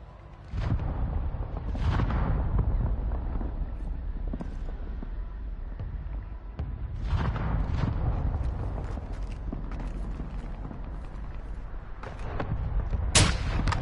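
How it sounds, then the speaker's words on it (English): Bursts of distant gunfire in a video game, several heavy booming shots spread across the clip over a constant rumbling battle background. "I can hear gunshots over this way."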